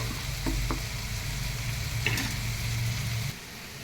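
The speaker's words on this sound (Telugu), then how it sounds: "ఇప్పుడు ఇది ఇందులో ఈ తాలింపు మజ్జిగలో వేసేద్దామండి" Steady sizzling and crackling as hot spice tempering in oil is poured into buttermilk, with a few sharp pops and spatters, close and fairly quiet, then it dies down.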